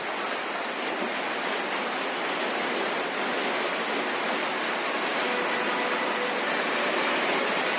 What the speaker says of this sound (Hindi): बीच जंगल में बारिश हो रही है।